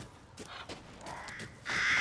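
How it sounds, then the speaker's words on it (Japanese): A crow caws inside the video game Resident Evil Village, a few harsh calls in a quiet outdoor game scene, with the loudest and clearest call near the end. "カラスちゃん。"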